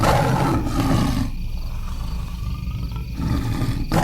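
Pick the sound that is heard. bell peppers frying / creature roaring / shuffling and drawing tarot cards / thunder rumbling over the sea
creature roaring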